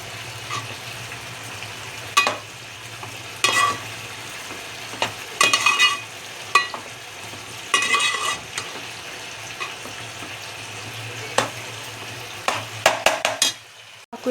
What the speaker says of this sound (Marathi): साखर टाकल्यानंतर सुद्धा आपण हे मिश्रण पूर्ण हलवून घेणार आहोत आणि 5 ते 10 मिनिटे शिजवून घेणार आहोत